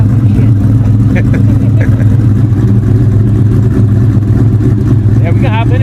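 A 2003 Ford Mustang SVT Cobra engine running: a loud, steady, low-pitched drone close by that fills the whole stretch, while voices speak briefly over it.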